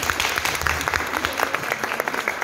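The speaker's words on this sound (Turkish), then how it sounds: "Alkış" An audience claps steadily and densely at a school Novruz celebration in Azerbaijan, sustained applause filling the room with a faint voice underneath.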